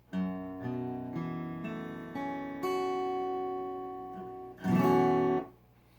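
Open acoustic guitar strings, played with a capo, ring out one after another, building into a sustained chord, followed by a louder strummed chord that fades.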